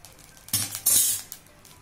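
A pizza plate set down onto a metal stand inside a kadhai, heard as two short metallic clunks and clatters close by, with a faint rattle afterward and no talking.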